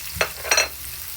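Garlic added after onion sautéing in a pan, two brief scraping stirs over a faint, steady sizzle, close and short.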